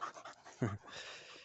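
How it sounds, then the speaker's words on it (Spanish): A dog pants on an olive grove, giving a quick run of rhythmic, breathy huffs up close with one louder gasp in the middle. "Tiene ahí la perra."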